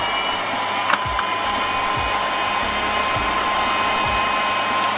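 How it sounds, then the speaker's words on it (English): A heat gun blows steadily on wood-grain vinyl wrap being fitted to the doors of a Jaguar X260 XF, a loud, close, continuous whooshing hum with no pauses and no talking. "The heat gun's pretty hot,"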